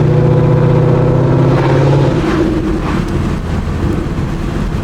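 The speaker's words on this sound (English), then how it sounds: "I will show you what it sounds like with the windows down." Modified Ford Mustang GT V8 heard from inside the cabin with the windows down: a loud, continuous engine drone with a steady tone at first, then a rougher rumble as the revs shift, with wind and road noise throughout.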